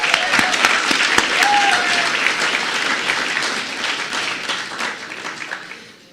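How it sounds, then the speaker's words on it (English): Crowd applause at an evening awards banquet at the Olympic Club, a loud, dense and steady wash of many hands clapping that gradually tapers off toward the end. "And maybe another round of applause for him."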